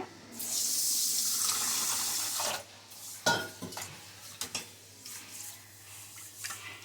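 Running water pours steadily for a couple of seconds, then gives way to sloshing, swishing and clinking as finger millet (ragi) is rinsed and stirred in a vessel.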